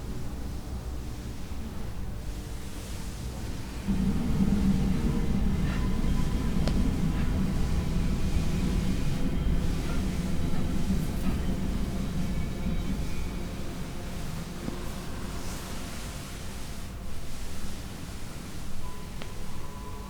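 Steady hiss of rain falling outside, unbroken for the whole stretch, with a low distant rumble underneath.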